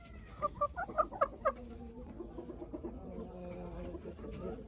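Crested hens cluck in a quick burst of short, bright calls, then settle into softer, lower murmuring clucks nearby in their pen while being fed grain.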